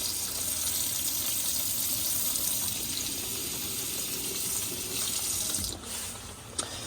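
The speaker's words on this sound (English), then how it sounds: "And this is your hot water working there, so the water is warm." Steady hiss of hot water running from the sink tap inside a Burstner Lyseo Harmony 700 motorhome, with the pump on, continuous and close throughout, with a small clatter near the end.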